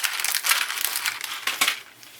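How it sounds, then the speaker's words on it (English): Craft haul packaging crinkles and crushes in close, busy bursts of rustling plastic and paper for about two seconds, with no voices. "Sorry for all the rustling."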